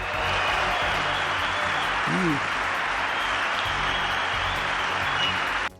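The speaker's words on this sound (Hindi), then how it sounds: "जिसे सुनकर हर कोई तालियां बजाने लगा" Audience applauding from a stage event in Riyadh where the US President is speaking, a steady dense wash of clapping that holds at even loudness throughout, with a brief voice rising in the middle, then cutting off abruptly at the end.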